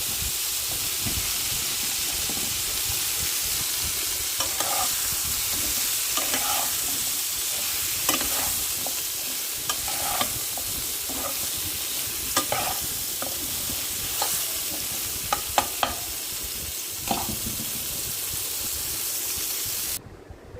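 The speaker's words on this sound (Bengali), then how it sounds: "দিয়ে আলু আর পটল একসাথে ভেজে নেব" Potatoes and pointed gourd frying together in a pan, a continuous loud sizzle broken by intermittent stirring clatter and scraping, close and without talk, cutting off abruptly at the end.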